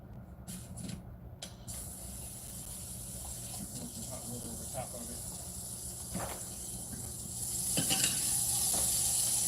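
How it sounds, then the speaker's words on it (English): A frozen pot doused in hot water sizzles and hisses steadily, with scattered sharp pops and cracks of ice, the hiss swelling louder toward the end. "I want you to hear the ice popping when I had to pull that thing apart."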